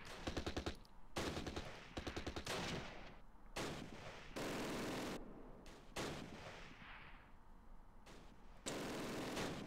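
Bursts of machine-gun fire, rifle shots and mortar blasts from the Arnhem battle in the war game Close Combat Last Stand Arnhem, loud rapid rattling volleys broken by short gaps and heavier booms, with no talking.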